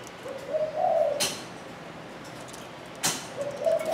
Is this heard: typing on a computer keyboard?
no